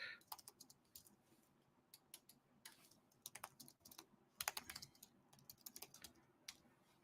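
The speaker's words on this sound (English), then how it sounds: "And it's just me typing." Quick, light keystrokes clatter on a computer keyboard in uneven bursts, close and soft, with brief pauses between flurries of clicking.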